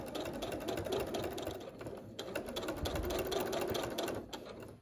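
Sewing machine stitching a scrap quilt, a fast continuous mechanical whirring chatter close by, running steadily for several seconds with brief slowdowns before stopping at the end.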